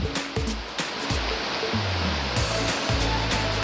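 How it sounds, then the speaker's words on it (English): Water is poured onto a small plastic LOL toy doll, making a steady, close rushing splash that runs continuously without a break. "I just put a little water on it."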